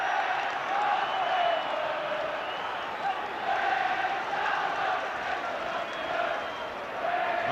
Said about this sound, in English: Listen to the Molineux crowd.